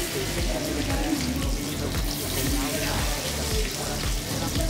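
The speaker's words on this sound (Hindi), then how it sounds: "10 मिनट में भाई फिश फ्राई होके बाहर आ जाती है इस कढ़ाई में से" Fish fries in a kadai of hot oil at a Karachi street seafood stall, a loud, continuous bubbling sizzle, with voices faintly underneath.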